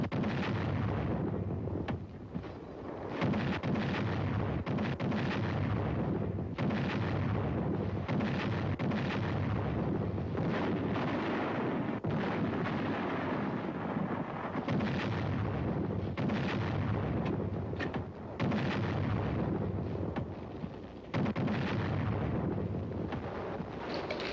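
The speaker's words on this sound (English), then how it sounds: "Number 1 gun, fire!" An artillery gun firing produces continuous heavy, booming rumble that stays loud throughout, with buffeting wind on the microphone and a few brief dips in level.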